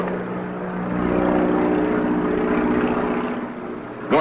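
Seaplane flying low offshore, a film sound effect: a steady propeller-engine drone that swells after the first second and holds loud and close for several seconds before easing slightly, with no voices.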